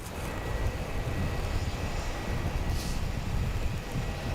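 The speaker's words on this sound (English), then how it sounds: "This is our Jetstar coming in from Denpasar." A Jetstar airliner arriving at Melbourne Airport from Denpasar at night gives a steady, moderate engine rumble that holds evenly throughout, heard from a distance without any voices.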